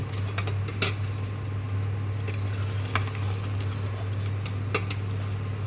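A spoon stirs rabri into ghee-fried sweet vermicelli in a pan, giving sparse, light metallic clinks and scrapes over a steady low hum.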